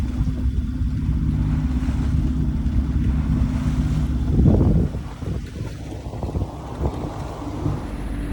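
A sailboat at sea running under motor and sail gives a steady low engine drone beneath rushing water, waves and wind buffeting the microphone, loud and continuous with a brief surge of splashing midway.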